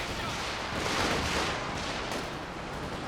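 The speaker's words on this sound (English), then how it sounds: "Get a decent walking Stuka barrage there." Stuka dive bomber barrage in Company of Heroes 2, a steady roar of distant rumbling explosions and crackling blasts that swells slightly in the middle and then holds, with no pauses.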